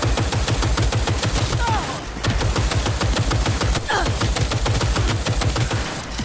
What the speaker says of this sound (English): I love this turret stuff.